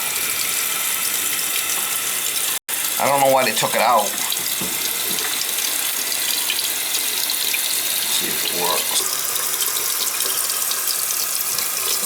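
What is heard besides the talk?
water draining from tipped old American Standard toilet flush bucket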